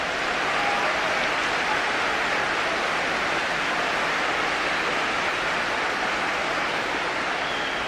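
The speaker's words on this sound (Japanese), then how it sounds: "雨の中で最後まで諦めなかった広陵のプレーも含めて大きな拍手が起こりました" Crowd applause at a spring 2010 high school baseball semifinal, Koryo versus Nichidai-san, with fans clapping in the rain. It forms a dense, steady wash of clapping and rain-like hiss that holds evenly throughout, with no clear voices.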